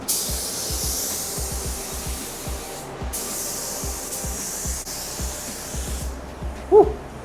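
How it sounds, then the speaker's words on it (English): Spray gun laying a wet coat of paint onto a Volkswagen Beetle during a rebuild, a steady close hiss running almost continuously with a brief break near three seconds, fading near the end. "I'm spraying this on nice and wet."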